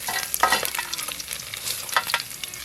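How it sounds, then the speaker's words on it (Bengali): Bhetki fish bones fry in hot oil, giving a steady close crackle with bursts of sharp spitting pops throughout and no voices. "এই দেখুন কাঁটাগুলো কিন্তু খুব সুন্দর করে ভাজা হয়ে গেছে"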